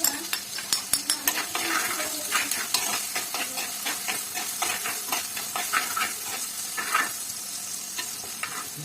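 Curry leaves go into a pan of frying onion for a spiny fish curry, setting off a loud, crackling sizzle punctuated by sharp, rhythmic taps of a spoon against the pan.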